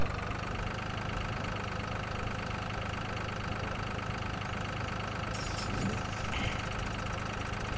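A farm tractor engine in a farming game runs continuously at a steady idle-like drone, loud and unbroken for the whole stretch, with a faint knocking texture and no voices.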